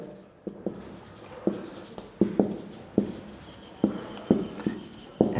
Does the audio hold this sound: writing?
yes